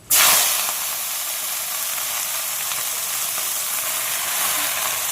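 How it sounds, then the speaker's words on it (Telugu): Washed gongura (sorrel) leaves dropped into a hot pan with a little oil, giving a loud sudden sizzle that settles into a steady, close frying hiss. "ఇంకా మనం కడిగి పెట్టుకున్న గోంగూర అయితే వేసేసుకుందాం."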